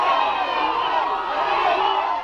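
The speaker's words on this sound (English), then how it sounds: "a crowd of angry protesters assembled at the steps of Village Hall" Crowd of movie extras playing angry protesters at the steps of Village Hall shouts and yells together, a steady loud mass of voices with no pauses, close and continuous for the whole stretch.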